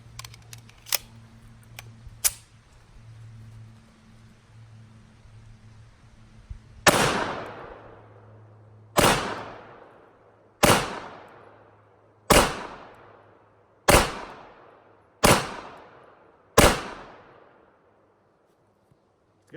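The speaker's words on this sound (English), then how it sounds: "So let's put another 8 rounds through it." A Desert Eagle 1911 pistol fires a string of eight sharp, loud shots at roughly two-second intervals, each with a ringing decay, after a few faint clicks and a low hum.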